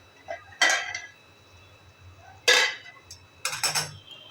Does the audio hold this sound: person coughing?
no